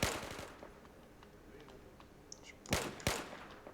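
Gunfire from a weak-ammo gun in S.T.A.L.K.E.R. OGSR Gunslinger, a sharp opening shot followed by two more distinct, cracking reports near the end, fairly quiet overall with faint ambient sound between.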